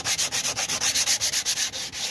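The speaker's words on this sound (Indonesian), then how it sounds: "Nah, ini sedang mengamplas ya" Hand sanding of hardened putty mixed with glue, a steady rhythm of about a dozen quick back-and-forth rasping strokes, close and loud with no voices.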